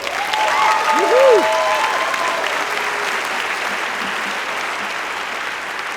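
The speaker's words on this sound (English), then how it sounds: "please give yourselves a round of applause" Graduates at a 2016 commencement ceremony applaud in a large crowd, making a loud, sustained wash of clapping with some cheers and whoops rising early on before the noise settles into steady applause.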